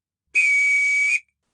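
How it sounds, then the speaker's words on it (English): A single sharp whistle blown as a call, one steady high tone lasting under a second, clear and alone against silence. "I believe he is whistling for me."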